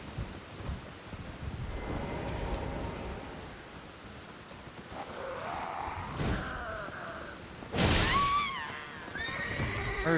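A horse in the video game Elden Ring whinnies several times over loud, windy, stormy in-game noise, including one sharp, strong neigh near the end.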